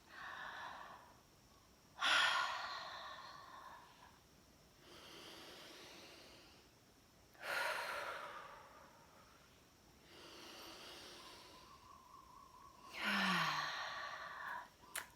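Three deep breaths taken during a cold-exposure breathing exercise, each a long audible exhale with a sighing rush of air, spaced several seconds apart, close and clear.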